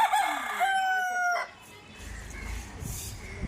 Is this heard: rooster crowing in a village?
yes